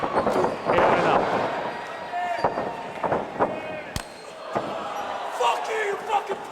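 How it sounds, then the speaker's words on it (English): A wrestler is struck by a big clothesline during a live independent pro wrestling show, the body impact landing as a sharp thud amid a loud, roaring crowd and an announcer's excited commentary. "Big clothesline once again."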